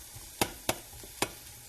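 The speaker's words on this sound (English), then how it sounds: "Just keep chopping at it, hacking at it till it all falls apart." Raw sausage being chopped and broken apart in a frying pan on low heat for gravy, with three sharp scraping knocks of the utensil against the pan over a faint background sizzle.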